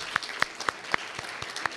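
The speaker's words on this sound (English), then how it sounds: "if we can also give another round of applause for Dr." Warm applause for an honoree at a human rights awards breakfast, a short round of scattered, fairly sparse clapping from a modest audience, heard on its own.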